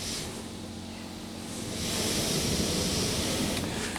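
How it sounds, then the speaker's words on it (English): PDQ Laserwash M5 automatic car wash spraying high-pressure water, a steady broadband hiss that swells louder midway, heard from inside the car with no talk. "it's on its way off again now, as we're getting more high pressure washing"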